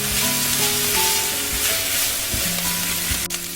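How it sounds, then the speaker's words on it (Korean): Ground beef stir-frying in a pan over medium-high heat, a steady close sizzle with occasional stirring scrapes, with no voice. "중강불에서 함께 볶아주세요."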